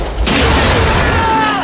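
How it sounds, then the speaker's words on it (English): A single sudden heavy boom bursts out as a high-pressure nitrogen cannon fires a car body, followed by a short rushing, rattling tail of debris and motion. "a piston which is fired out using the high pressure nitrogen"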